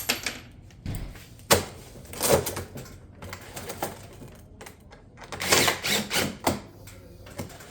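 A ridge cap tile on a barrel vault tile roof with battens is fastened down, producing a few scattered, sharp mechanical knocks and rattles that are fairly faint with quiet gaps between them.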